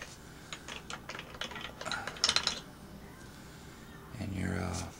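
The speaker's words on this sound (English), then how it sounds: "you want to take and pull straight back on your bolt," The bolt of an SKS rifle slides back during disassembly, giving a quick run of light metallic clicks and scrapes, then a brief smoother rasp, all close and fairly quiet with no talk.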